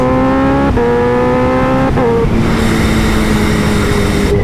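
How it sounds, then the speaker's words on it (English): A loud, raw Kawasaki Ninja H2 motorcycle engine revs hard through several gear changes, its harsh VanDemon exhaust with the baffle removed droning close by. "with the baffle out of this VanDemon exhaust, it sounds the part"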